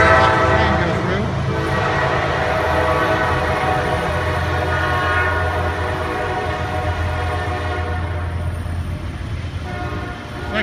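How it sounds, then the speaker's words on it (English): A train rolls past a courthouse lawn in Tennessee, its horn blaring in long sustained blasts over a heavy, continuous rumble of the cars. "Train goes through."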